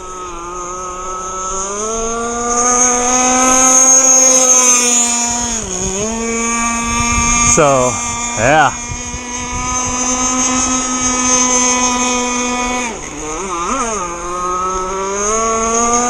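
A ZippKits Super Sport RC boat engine screams at high revs on a hot day, a loud, steady nitro whine with strong harmonics that dips and rises sharply with throttle changes twice, with a brief spoken comment.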